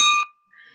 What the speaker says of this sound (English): I'll still ring the bell for the cause.